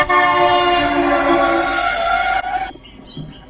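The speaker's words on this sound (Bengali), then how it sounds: "একটা বিরাট সাইজের পাঞ্জাব লরি এমন হর্ন দিতে দিতে গেল যে কিছুক্ষণের জন্য আমার কানে তালা লেগে গেল।" A large Punjab lorry blasts its horn in one loud, sustained, blaring tone that holds for a couple of seconds, then cuts off and trails away.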